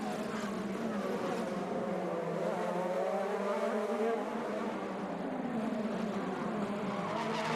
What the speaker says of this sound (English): Whoa. Contact. Harvey spun by Grosjean.